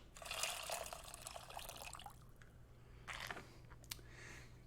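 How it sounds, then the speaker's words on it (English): Water poured over a sieve into a bowl while cooking in the video game Venba, a soft splashing trickle that fades, followed by a few small drips and clinks near the end. "Take your water and pour it over the sieve."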